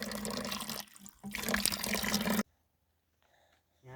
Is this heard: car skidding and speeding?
no